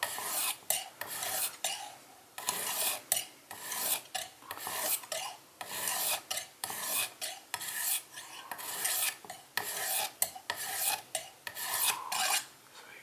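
A knife blade stroked diagonally across the stone of a Lansky Deluxe sharpening system, giving repeated close raspy scraping strokes in a steady back-and-forth rhythm, about a dozen passes, with no talking.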